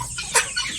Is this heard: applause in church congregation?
no